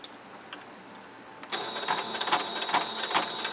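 A sewing machine stitching a salwar starts after a quiet second and then runs with a steady mechanical whirr marked by regular rhythmic clicks, heard close up.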